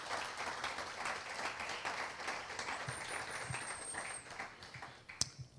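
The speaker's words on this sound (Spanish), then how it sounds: "Vamos a dar un fuerte aplauso al Señor porque Él vive." Church congregation applauding during a Spanish-language sermon, a fairly faint, steady wash of clapping with a thin whistle-like tone partway through and a few louder taps near the end.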